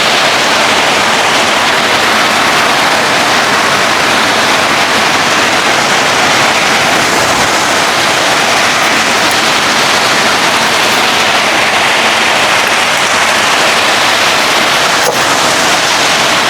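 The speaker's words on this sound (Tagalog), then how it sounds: "Kaya malakas yung ulan." Heavy rain pours steadily over a dwarf coconut farm, a dense, even hiss that stays loud and unbroken from start to finish with no voices.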